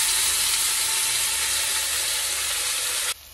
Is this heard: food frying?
yes